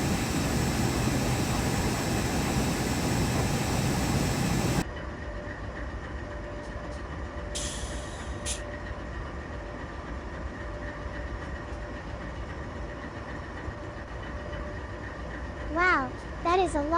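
A long freight train rolls steadily in a train-driving video game, a dense rumble that thins abruptly to a quieter, continuous drone with a brief hiss and a few rising whistle-like tones near the end.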